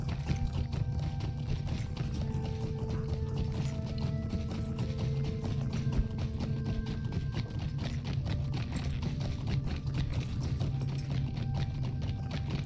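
Steady clip-clop of horse hooves at a galloping rhythm in a Lord of the Rings video game, continuous and fairly close, with a low rumbling background throughout.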